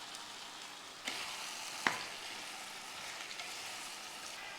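Onion and tomato sautéing in a pan with salt and turmeric, a soft, even sizzle throughout with two brief sharp clinks of a spoon, quiet and steady, no talk.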